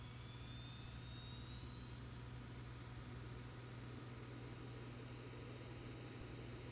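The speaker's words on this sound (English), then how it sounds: "there's basically like a smaller auxiliary power unit engine here. And as you can see, there's the exhaust gas coming out of the aircraft" A Boeing 737's auxiliary power unit exhaust runs in the X-Plane 12 flight simulator, giving a steady, even engine drone with a rising whine on top, held at constant loudness with no talk.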